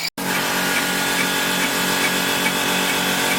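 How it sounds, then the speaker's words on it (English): Boring machine taking very light cuts to open out the bores in the top of BSA Fury motorcycle cylinder castings, a steady dense machining whine with a brief dropout at the start, then continuous and close. "just starting to open out the bores in the top of the cylinder castings"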